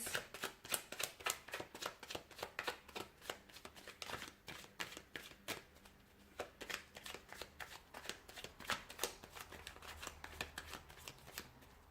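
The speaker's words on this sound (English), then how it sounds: "I'll go ahead and give the cards a shuffle here" A rapid, crisp riffle of tarot cards being shuffled, with repeated bursts of flicking and snapping close by, continuing steadily with no voices.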